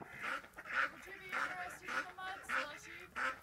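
Ducks quack repeatedly near a pond, six nasal honking calls arriving in a fairly steady rhythm about half a second apart, fairly close and moderately loud with some background noise.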